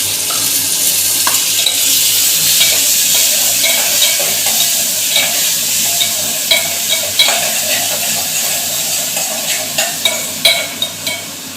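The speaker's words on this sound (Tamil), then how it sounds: "அதையும் போட்டு நல்லா வதக்கணும்." Small tomatoes and onions sautéing in a pan for sambar, a steady close sizzle with frequent scraping stirs and utensil taps that grow more distinct toward the end, with no talk.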